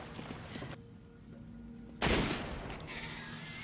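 Gunfire in Resident Evil 5 as an enemy is shot: a single sharp, loud blast partway through, following quieter game ambience and brief mechanical clicks.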